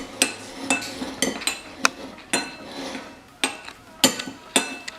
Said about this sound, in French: Je vais juste les aplatir un peu avec la cuillère.